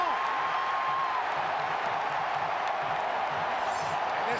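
Football stadium crowd at a USC at Oregon college game in 2007 roaring after an Oregon fumble recovery, a steady distant wash of cheering with no breaks, fairly faint.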